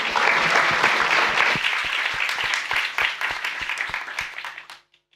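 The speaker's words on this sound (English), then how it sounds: "And please give Emma a round of applause." An audience at a science communication forum's flash talks applauds a presenter, a crowd of clapping hands with a few louder individual claps, fading out after about five seconds into near silence.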